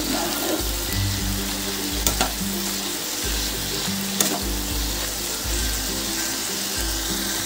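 Shapla stems stirred in a hot pan with turmeric and Kashmiri chilli powder sizzle steadily, with scraping stir strokes and a few sharp clinks, and no voices.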